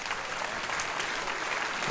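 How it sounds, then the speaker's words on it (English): A large theatre audience of about 2,400 at a stand-up comedy show breaks into sustained, dense applause, a continuous crackle of many hands clapping that fills the room without letup. "How many people here by applause are 45 or older?"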